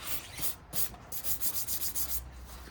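Sanding a BMW Z4 Coupe front bumper with 60 grit sandpaper to remove stone-chipped paint before a spray-can respray, heard as close, rhythmic back-and-forth rasping strokes with short pauses between.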